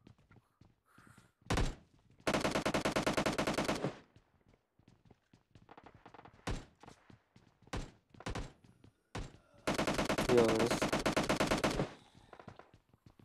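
Rapid automatic gunfire from players in a zombie video game: two long, loud sustained bursts with scattered single shots and thuds between them, no talking.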